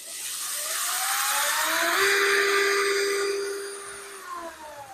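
A 2025-model Enon cordless machine runs at full speed in its first mode, a steady high electric motor whine that swells and holds, then tapers slightly near the end, close and alone.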